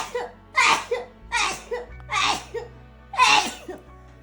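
Four sneeze-like bursts with sharp breathy attacks follow one another, loud and close, with no talking in between.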